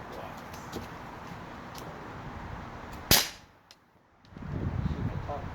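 A Daisy Powerline 415 BB gun fires once at cardboard at close range, giving a sharp snapping crack with brief ringing, followed by quiet and then rustling. Background speech is present.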